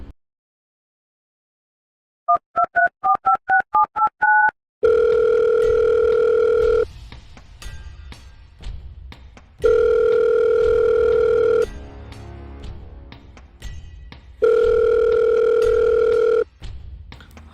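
Telephone call placed to a betting app promoter: a short burst of rapid dialing beeps, then a loud steady ringback tone sounding in repeated long pulses with gaps, alone with no talking.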